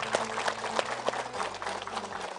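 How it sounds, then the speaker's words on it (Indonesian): A studio audience at an Indonesian religious talk show claps together in a short, moderately loud burst of applause, a faint musical tone sustained underneath. "Tepuk tangan sekali lagi."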